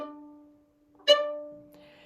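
A violin bow drops onto the string from too far above in a badly played off-string stroke, giving one sharp percussive hit that rings briefly over a fading sustained note, close and alone.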